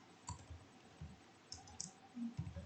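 Router configuration commands are typed on a computer keyboard in scattered, faint clicks and short bursts of keystrokes, quiet and close, with no speech.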